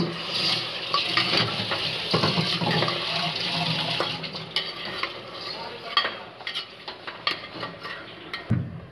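Mutton pieces fry and sizzle in a hot kadhai of spiced oil while a spoon scrapes and stirs them, a steady crackle broken by clattering strokes near the pan.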